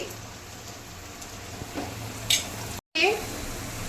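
Garlic paste and spices fry in a pan for a duck curry, giving a quiet, steady sizzle with a few soft stirring clicks and a brief dropout near the end.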